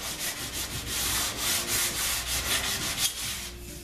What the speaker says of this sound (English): I've been using my sanding block, and I'm telling you, this thing makes quick work of getting into these corners